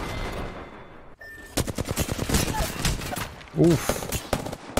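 Rapid gunfire crackles in a shooter match, a fast string of sharp shots followed by a brief pause and another burst, with someone talking and exclaiming over them.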